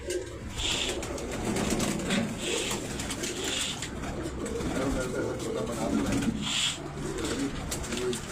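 Pigeons coo repeatedly on a rooftop loft, making soft, throaty, rolling calls at a moderate distance. Voices talk nearby and a low engine-like rumble runs underneath.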